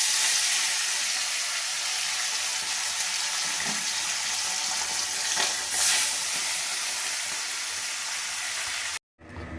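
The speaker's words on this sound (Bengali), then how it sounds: "এবার আমি মাছগুলোকে ভেজে নেব" Tilapia fish fry in hot oil with a loud, dense, continuous sizzle heard close up, swelling briefly midway, then cutting out abruptly near the end; no one speaks.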